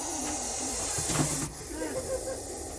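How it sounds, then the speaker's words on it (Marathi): An agitated snake hisses from a gap between floor tiles, a breathy airy rush that swells and cuts off sharply, with faint background noise around it. "हा सापाचा आवाज आहे"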